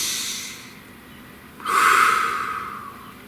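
A slow breath during meditation, with a soft exhale fading out and then a deep, audible inhale through the nose that swells and tapers off, close and alone.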